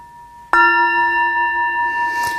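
A meditation bell struck once during a sangha gathering, a sharp onset followed by a clear, sustained ringing tone that hums steadily and slowly fades, close and alone without talk.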